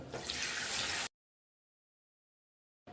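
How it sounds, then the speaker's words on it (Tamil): Water swirled and poured from a mixer jar while rinsing it into a pepper kuzhambu pot makes a short splashy rush close by. Silence follows. "1 டம்ளர் தண்ணி விட்டு மிக்ஸி அலம்பி ஊற்றிக்கோங்க"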